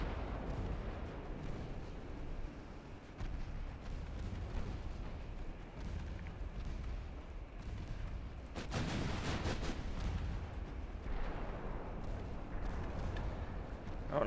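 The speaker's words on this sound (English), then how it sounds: "Let's go fire the main guns at you." Warship main guns boom in a naval battle in Ultimate Admiral Dreadnoughts, a distant rumbling barrage of heavy reports with a louder cluster of blasts midway, set over a constant low background din.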